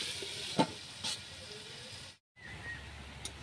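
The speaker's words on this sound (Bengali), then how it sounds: "এবার আমি ঢাকা দিয়ে আস্তে আস্তে আলুগুলো কষে নিই।" Potatoes coated in salt and turmeric fry slowly in a covered pan, giving a low, soft sizzle with a few faint taps and a short silent gap.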